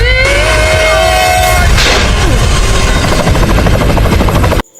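A helicopter in a Bhojpuri action movie scene lands on top of a train. The loud, steady rotor roar runs throughout, with tonal effects, a whoosh and crashing impacts, then cuts off abruptly.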